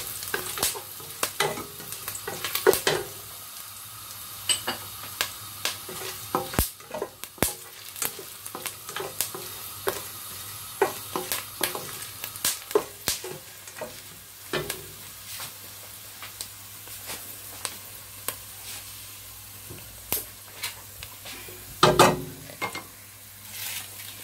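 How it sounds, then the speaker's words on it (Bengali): About 1.5 kg of rice fries with whole garam masala in a pot for Old Dhaka shahi kacchi biryani. A steady low sizzle runs throughout, broken by frequent scraping and clinking strokes from the stirring spoon. "সমস্ত গরম মশলাগুলি দিয়ে। চালটাকে আমি জাস্ট ভেজে নিব"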